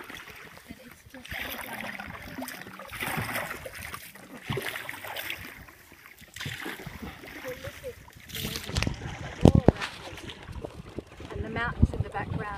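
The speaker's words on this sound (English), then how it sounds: "we've got our lovely little guide down here paddling away, working up sweat" A guide paddles a small boat on water beneath mountains in Sri Lanka, with soft splashes and trickling water under steady noise, a louder splash near the end, and people talking over it.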